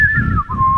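A penny whistle of the Clangers sort sounds a single clear, loud sustained note that slides gently downward in pitch, close up and alone.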